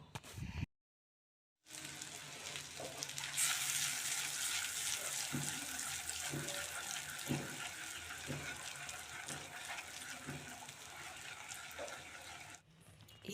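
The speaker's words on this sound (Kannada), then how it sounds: "ಒಂದು ಐದು ನಿಮಿಷ ಅದು ಫ್ರೈ ಮಾಡಬೇಕು" Eggs frying in oil in a pan for egg gravy, a steady crackling sizzle that runs continuously and close after a brief silent gap at the start, with light clinks of utensils and no talking.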